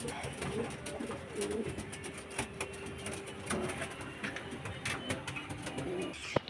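Pigeons in an enclosure holding birds isolated for adenovirus and going-light illness, giving soft, repeated low coos and scattered calls throughout, with faint rustling and background noise.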